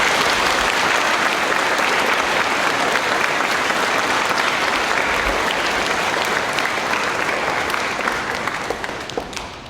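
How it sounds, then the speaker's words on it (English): Loud, sustained applause from a large crowd honoring veterans at an elementary school Veterans Day assembly, dense and even throughout before easing slightly at the end. "Let's give our veterans a round of applause."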